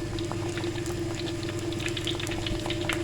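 Fish frying in masala in a pan on low heat gives a continuous, even sizzle with dense bubbling and small pops, steady throughout with no talk.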